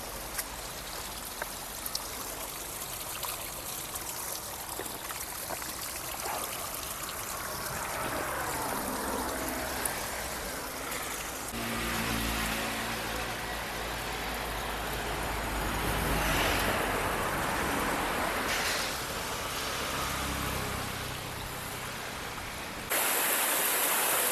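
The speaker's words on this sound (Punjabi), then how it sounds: "ਦੇਖੋ ਇਹ ਪਾਣੀ ਆਉਂਦਾ ਪਹਾੜਾਂ ਚੋਂ" A steady rush of cold mountain water fills the scene, a stream running continuously nearby on the route to Hemkund Sahib, with fluctuating loudness and no voices.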